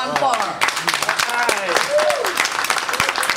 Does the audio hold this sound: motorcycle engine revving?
no